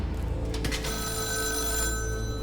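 A telephone rings in a psychological horror video game, a steady electronic bell that holds on continuously after a short rustle at the start, fairly loud and with no voices.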